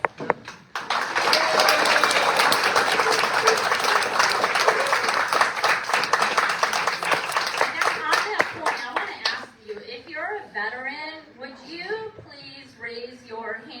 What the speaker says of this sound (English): give you an extra round of applause